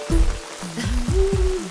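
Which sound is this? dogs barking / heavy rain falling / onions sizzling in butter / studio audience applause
heavy rain falling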